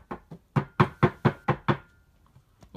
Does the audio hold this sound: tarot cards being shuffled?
no